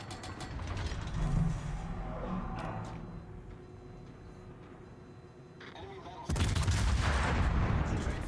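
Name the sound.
Baltimore cruiser firing HE shells in World of Warships video game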